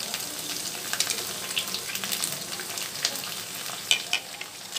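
Cabbage, capsicum and onion frying in a pan for Indian-style masala pasta: steady close sizzling with intermittent stirring scrapes and clicks, alone without talk.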